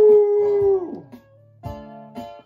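People imitating a howling animal, one long sustained voiced howl that bends downward and fades, followed by two shorter, quieter howl-like calls, heard close with no other talk.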